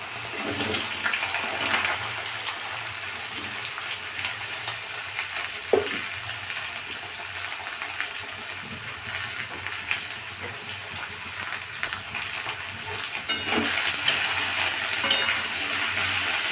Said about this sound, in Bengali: এটা ভেজে নিচ্ছি আমি